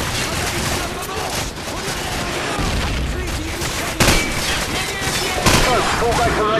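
Rapid gunfire crackles in dense bursts amid a chaotic Call of Duty 4: Modern Warfare (PC) game soundscape, with muffled voices mixed into the noise.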